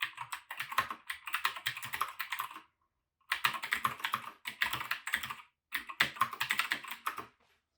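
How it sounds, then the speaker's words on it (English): Typing on an AlphaSmart 3000 converted to a mechanical keyboard: close, crisp bursts of rapid key clacks come in four runs separated by brief pauses, with no voice present. "So now, if I try to type a sentence,"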